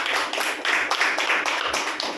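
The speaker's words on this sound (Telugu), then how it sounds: "చప్పట్లు కొట్టి దేవుని మహిమపరుస్తాం గట్టిగా." A church congregation claps hard together to glorify God at a Sunday service, steady rhythmic hand claps repeating in a brisk, even beat.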